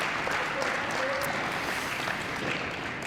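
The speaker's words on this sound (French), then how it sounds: "Applaudi par le public de Carquefou qui a envie d'en voir plus." Spectators at an indoor padel tournament in Carquefou, Nantes, applauding a player during a semi-final, a steady wash of clapping with a commentator's voice faintly over it.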